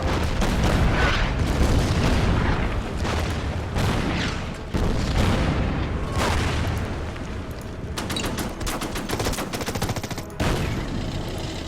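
Bombing explosions and rattling gunfire in the wartime strategy game Order of Battle, set around Tobruk. Loud booms and bursts overlap in a dense, continuous barrage, and rapid machine-gun clatter joins toward the end.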